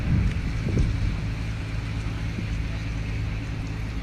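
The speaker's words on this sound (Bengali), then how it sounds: "এই একটা জাহাজ আসতে আছে" A ship passes on the Kirtankhola river in Barishal, a low rumbling engine drone running steadily under rushing wind noise, with no voices.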